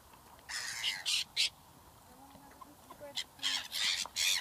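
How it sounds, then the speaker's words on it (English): Swans on a nature walk in Norwich give harsh, snarling calls in short rasping bursts, some close and fairly loud, repeated in clusters over faint outdoor background. "The swans make some weird swan sounds sometimes,"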